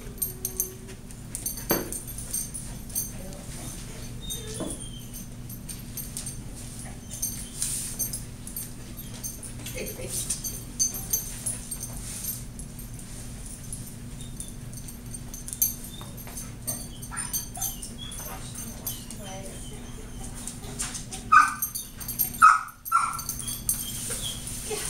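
A dog on a nose work search sniffs in short bursts and lets out occasional thin whimpers, faint and close against a quiet indoor hum, with a louder scuffle near the end.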